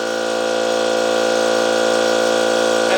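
A cordless air compressor, a DeWalt 60V DCC22560 or Milwaukee 18V 2840-20, runs in a loud continuous motorized hum with a steady even tone throughout, up close.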